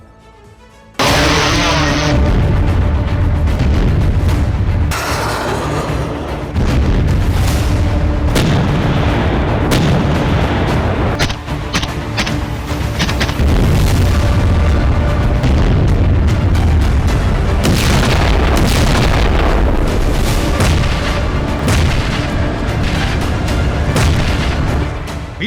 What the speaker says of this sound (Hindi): जिसके चलते यूक्रेन के कोने कोने में बारूदी भूचाल आ गया है।